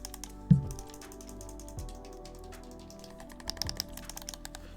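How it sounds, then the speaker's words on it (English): Sharp little clicks from mouse-click triggers fitted to a game controller, tapped in a quick uneven series near the mic over a faint background hum. "This is my controller that I have the mouse click triggers on."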